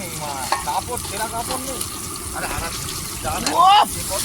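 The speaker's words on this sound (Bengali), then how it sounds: "কি ভাজছে বন্ধুরা," Food sizzles and fries in a pan during outdoor picnic cooking, with stirring scrapes and a brief louder burst near the end, while people talk nearby.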